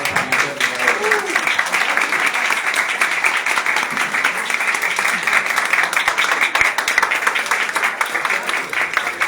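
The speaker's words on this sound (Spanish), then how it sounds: "vamos a darle un aplauso" Audience applause at a Spanish-language poetry colloquium, steady dense clapping filling the whole stretch at an even level, with faint voices underneath early on.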